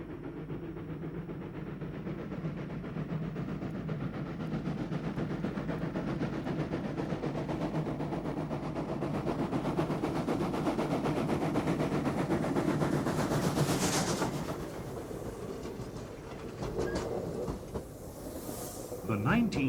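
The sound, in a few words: South African 19D steam locomotive hauling a passenger train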